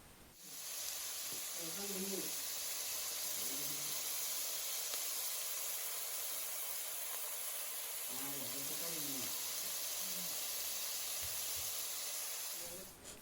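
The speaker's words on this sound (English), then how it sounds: "add a little bit of salt so that the onions get sauteed quickly" Thinly sliced onions sauté in vegetable oil in a pot, giving a steady, bright sizzle that runs unbroken from start to finish, while a voice speaks briefly over it at a few points.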